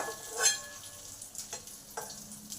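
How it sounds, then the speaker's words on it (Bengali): Broken cashews fry and are stirred in a pan for ukadiche modak filling, giving a soft sizzle with a louder scrape near the start and a few lighter stirring clicks after, no talk. "এর সঙ্গে কাজুগুলোকেও ভেঙে দিয়ে দিলাম কাজুগুলো জাস্ট এক মিনিট ভেজে নেবো"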